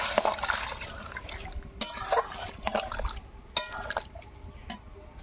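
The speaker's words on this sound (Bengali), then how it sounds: "কষানো হয়ে গেছে, এবার আমি একটু জল দিচ্ছি।" Water is added to chicken curry cooking in a pot, giving soft pouring and dripping splashes mixed with light clatter, fairly close and moderately loud, with no talk.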